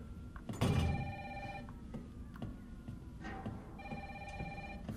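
An old-style telephone rings in Resident Evil 3 Remake, two bursts of rapid bell trills separated by a pause, amid quiet game ambience and faint clicks.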